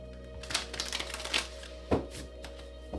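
Cards are shuffled in quick riffling bursts, several crisp flurries of flicking paper close up, with short pauses between them.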